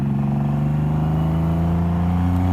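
A 2014 Triumph Rocket 3 Roadster with Carpenter Racing work rumbles steadily, its big triple engine giving a loud, close, even throb with no speech.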